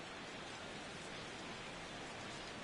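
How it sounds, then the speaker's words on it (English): Heavy, steady rain pours down evenly in the MLB The Show 16 baseball video game, a faint, constant hiss like rain on a surface with no breaks. "this rain is intensifying now. This is as hard as it's come down all night"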